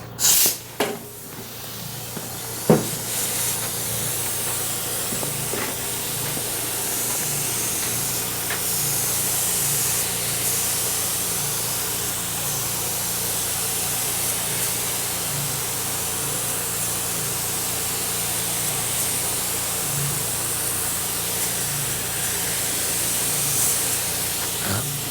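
Epoxy primer sprayed as a second coat onto a solar rack and wind deflector, a steady close hiss running almost unbroken for about 25 seconds after a couple of brief knocks at the start.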